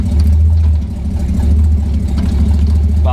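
A Volvo engine idles steadily after starting in park, a loud, close, low rumble that stays even throughout with a faint rev near the end.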